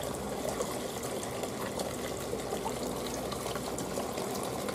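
Water in a hot spring foot bath sloshes and trickles steadily as feet step in, a continuous close wash of liquid with no pauses.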